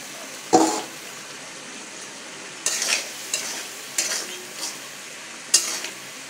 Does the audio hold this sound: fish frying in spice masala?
yes